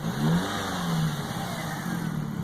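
A car engine revs up as throttle is applied, a strong mid-pitched roar that swells and eases over a couple of seconds, close and loud with no talk over it.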